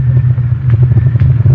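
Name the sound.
car driving, radio drama sound effect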